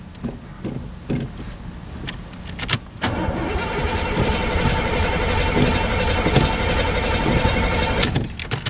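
Old Oldsmobile Cutlass cranking without catching: a few short starter bursts, then about five seconds of steady, loud grinding turnover that stops without the engine firing.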